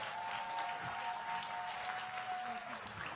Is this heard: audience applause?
yes